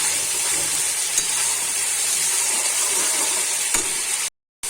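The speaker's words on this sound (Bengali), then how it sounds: "টমেটোটা আমি যতক্ষণ নাড়বো যাতে কাঁচা গন্ধটা না আসে ততক্ষণ পর্যন্ত আমি নাড়বো।" Tomato is stirred and fried in a pan while cooking an echor chingri (young jackfruit and prawn) curry. A loud, continuous close sizzle runs throughout, with faint stirring underneath, before a brief drop to silence near the end.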